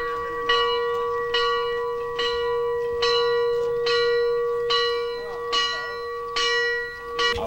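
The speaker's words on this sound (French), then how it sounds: "Du fait que j'ai sonné la cloche" A village bell rung by hand in Bofa, striking about every half-second in a steady repeated clang, loud and close with a sustained ringing tone beneath the strikes.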